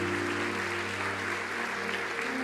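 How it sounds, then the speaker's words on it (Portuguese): A church congregation gives a steady, dense round of applause for the Lord, a continuous wash of clapping with a faint low hum underneath. "dê uma salva de palmas ao Senhor"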